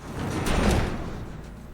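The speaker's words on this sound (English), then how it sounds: "Barricade the door." In The Last of Us, a door is barricaded: a soft, muffled scraping shove swells and fades over under two seconds, quiet and without speech.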